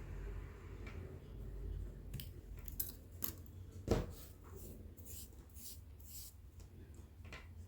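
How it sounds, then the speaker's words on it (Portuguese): Small scissors snipping yarn for an amigurumi dragonfly, a few sharp close clicks scattered over a quiet room background with faint handling noise. "aqui nós já podemos cortar o fio"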